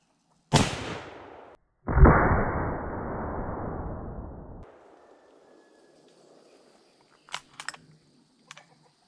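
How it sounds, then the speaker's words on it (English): A Winchester 1886 rifle in 50-110 WCF, fired with a hot load over a chronograph, gives a sharp, loud blast, then a second heavy boom that rolls on for a few seconds. A few faint clicks follow. "We're just going to shoot this across the chronograph and see what kind of velocities it is."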